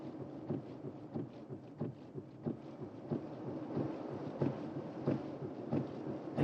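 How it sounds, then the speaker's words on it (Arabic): Steady rain pours throughout with repeated low rumbles of thunder rolling in at fairly regular intervals, a dense, continuous storm wash heard alone without voices. "المطره بتمطر والشمس طالعه"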